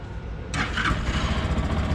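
A fuel-injected motorcycle engine starts up at once without choke or kickstart, a short crank catching about halfway in and settling into a steady, close idle.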